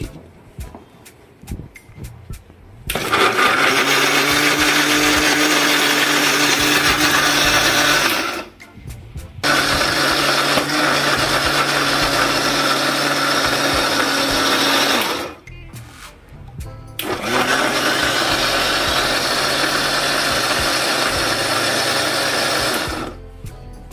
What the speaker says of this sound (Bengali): তারপর অল্প পরিমাণ ঠান্ডা দুধ দিয়ে সবকিছুকে ভালোভাবে ব্লেন্ড করে নিতে হবে।